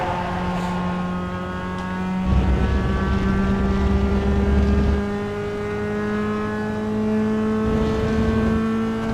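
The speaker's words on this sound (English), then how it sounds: "we can get right back on the throttle and pretty much maintain full throttle throughout this and the next right hand corner" A rally car engine in Richard Burns Rally holds full throttle with a loud, steady drone and rising harmonic whine, briefly interrupted by gear changes and rough road rumble, with no voices.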